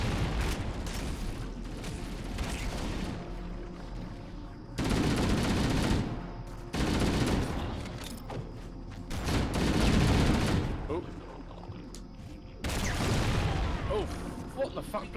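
Explosions and gunfire from Halo: Combat Evolved, with a blast from an exploding enemy knocking out the player; loud bursts of booming fire come in several clusters, with talk running underneath.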